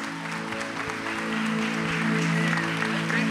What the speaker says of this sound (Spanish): Why don't y'all give the prophet and Pastor Ricardo a big hand clap as they come to minister the word of God.